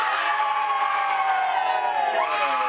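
Audience at a junior band competition cheers for a band on cue, a loud sustained roar of shouts and high whoops from many young voices, held steady throughout.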